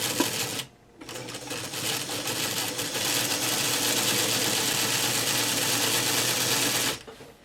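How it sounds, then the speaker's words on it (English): A sewing machine stitches along the folded edge of fabric for a pincushion, running in one steady, close, continuous whir for about six seconds. A short burst comes first, then a brief pause, and the machine stops cleanly at the end. "we're going to sew along the edge"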